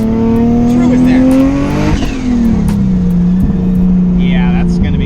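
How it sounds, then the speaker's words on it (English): Big turbo R33 Skyline engine revving loudly, climbing then dropping and settling to a throbbing idle, very close and loud with voices talking over it. "Wow, that is a loud car."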